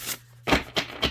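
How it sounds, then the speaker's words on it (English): An oracle card deck is being shuffled by hand up close, giving three or four quick, crisp riffling bursts with short pauses between them and no talking. "now I'll just keep shuffling until I don't feel like shuffling anymore"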